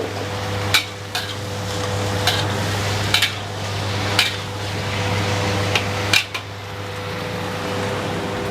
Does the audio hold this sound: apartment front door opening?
no